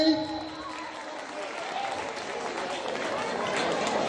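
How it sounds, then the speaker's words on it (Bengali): An audience claps at a high school jubilee function, a burst of applause that swells and holds, with a voice briefly heard at the start. "একটা জোরে হাততালি।"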